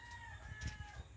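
Chickens cluck in a pen beside a house after being bathed, with soft repeated low clucks and a steady background hum, near and moderately loud throughout.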